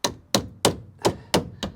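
A hammer strikes a Citroen Visa rear body panel six times in a steady rhythm, each blow a sharp, close metallic whack with a short ringing decay, loud and alone with no talk.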